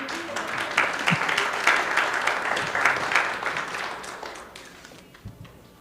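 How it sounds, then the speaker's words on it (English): A crowd at the 1986 Celebration heritage gathering applauds for the Mount Saint Elias Dancers. Many hands clap together in a full burst that slowly thins and fades toward the end. "Give them an applause,"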